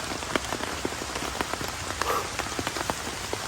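Heavy rain pattering on a campsite on Mount Salak during a solo camping trip, a dense, steady hiss with sharp individual drops tapping on nearby surfaces, close and continuous, with no voices.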